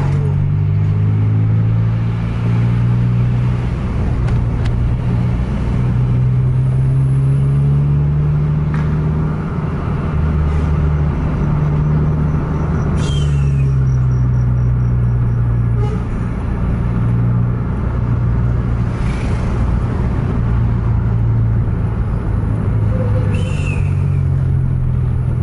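A Putra Pelangi Patas bus drives at night, a loud, continuous low engine rumble rising and falling through gear changes for a long stretch, with traffic noise around it and no talking.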